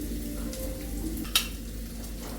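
Onions frying in a pan with curry leaves nearby, a steady close hiss and sizzle with a brief sharp clink partway through, no voices.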